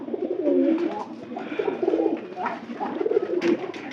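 Several pigeons in a new pigeon house coo in soft, repeated rolling phrases, close and continuous, overlapping one another.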